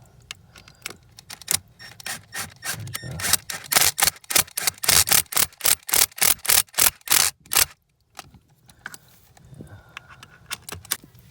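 A drill buzzes in a rapid series of short, evenly spaced bursts as screws are driven into a Toro 252 irrigation valve, going quiet briefly before fainter rattling resumes.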